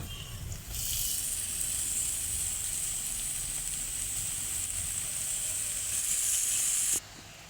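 Chopped pumpkin leaves hit a pan of frying onions and set off a loud, steady sizzle, a continuous hiss that holds evenly for several seconds before cutting off abruptly.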